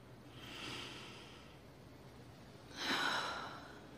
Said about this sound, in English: Longer sniffs.